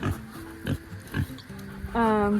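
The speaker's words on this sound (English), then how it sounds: "Hi, pigs." Pigs on a farm give short low grunts in bursts, with a louder squealing call near the end, close by and mixed with a person speaking softly.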